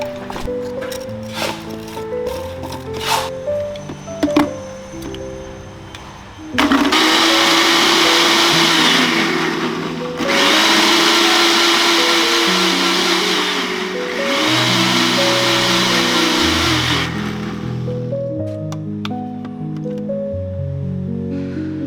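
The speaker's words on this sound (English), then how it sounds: "I will blend the garlic, then filter out the pulp, keeping only the liquid extract." A blender whirs loudly as it purees garlic cloves into garlic water for treating orchid root rot, running in three long bursts with short pauses between, while soft background music plays beneath.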